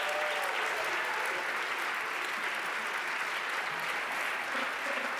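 An award ceremony audience claps for a winner in the mobility and transportation category, a full, steady burst of applause from many people that stays even and fairly loud for about five seconds.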